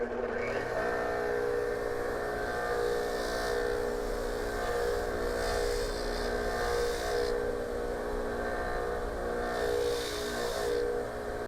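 A wire wheel scrubs the threads of the oil drain plug from a 2017-2023 Harley-Davidson Milwaukee-Eight Touring motorcycle, giving a steady, loud motor whine with a gritty rasp that holds throughout and swells slightly at times, with no talking.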